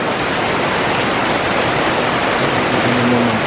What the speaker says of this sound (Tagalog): Ang lakas ng ulan, grabe.